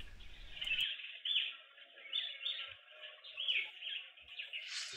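Green wood hoopoe chicks give repeated high chattering calls in quick, uneven bursts, close and fairly loud, with a brief rustle at the start.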